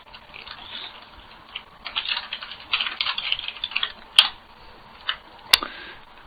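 Computer keyboard typing during a Try Hack Me ICE hacking exercise: rapid clusters of close key clicks in irregular bursts with a few louder single taps, no talking.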